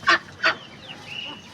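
Farm ducks calling in summer, two loud nasal honking quacks close by, followed by fainter chirps and calls in the background.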